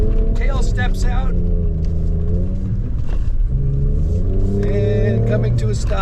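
A 2024 Ford Ranger Raptor pickup driven hard around a lap gives a deep, rumbling engine note that rises and falls as the throttle picks up. Someone talks continuously over the engine.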